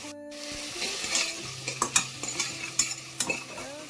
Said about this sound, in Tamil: கருவேப்பிலை போட்டு ஒரு 2 நிமிஷம் வதக்கிக்கலாம். வெங்காயம் வதங்க லைட்டாக சால்ட் போட்டுக்கலாம்.